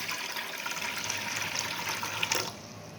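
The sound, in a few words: pouring warm water into a large bowl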